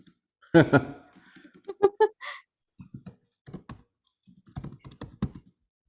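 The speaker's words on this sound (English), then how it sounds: "If I can type." Someone types on a computer keyboard in short irregular bursts of clicks and key taps, with a few pauses between them, fairly close and not very loud.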